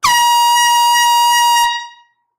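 One loud, sustained air horn blast at a record store sale holds steady for about a second and a half, then fades quickly into silence.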